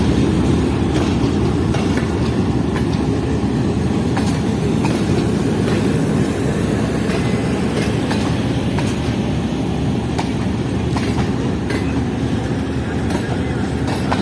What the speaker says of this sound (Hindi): साथ ही हमारी ट्रेन का लोकोमोटिव भी आ चुका है।